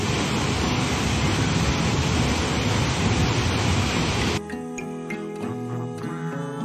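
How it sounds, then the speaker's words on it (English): Little River Falls, a 45-foot waterfall, roars as a loud, dense wall of rushing water that cuts off suddenly, leaving a quieter stretch with tonal background sound. "The falls are stunning, and you can feel the power of this 45-foot waterfall."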